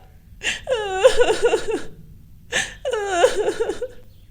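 A cartoon bulbul bird mother sobs and wails in two loud bursts, each a rising cry breaking into shaky, hiccuping whimpers.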